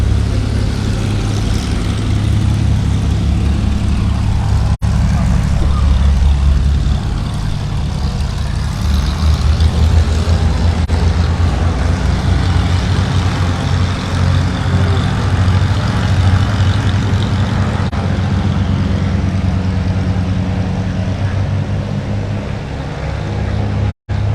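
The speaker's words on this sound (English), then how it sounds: "that's the second aircraft leaving as part of this major medical evacuation from that community" An aircraft leaves a community on a major medical evacuation after a deadly school dormitory fire, its loud, steady low engine drone rumbling continuously and close throughout, with no voices heard.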